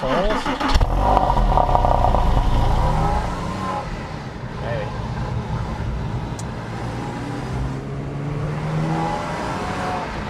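A Porsche 911 of the 997 generation, driven in third gear, gives a steady low engine drone from inside the cabin, loud and continuous throughout.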